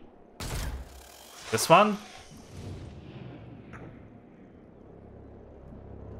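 A short burst of gunfire in the video game XCOM: Chimera Squad, a loud sharp crack followed by a brief rattling volley, with someone talking over and around it and low game ambience continuing afterward.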